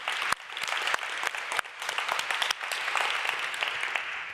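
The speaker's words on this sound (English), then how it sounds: "Let's give her an applause." Audience applause fills a hall at a university sport equality session, steady broadband clapping with a few sharp individual claps standing out, sustained throughout at moderate level.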